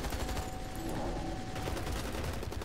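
Rapid, dense gunfire from the shooter Hazrd Ops, with sustained automatic bursts rattling continuously and loudly throughout, and no talking.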